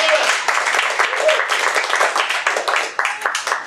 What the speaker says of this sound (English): Sure, you can clap for Louis.